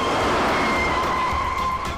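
A car pulling away, a brief steady engine and tire rumble with a rising tonal whine, close and fairly loud, with no voices.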